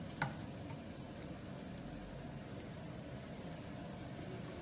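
Red onions frying in oil in a pan for a vegetable stir-fry give a steady, even sizzle that runs throughout at moderate volume, with a soft click near the start.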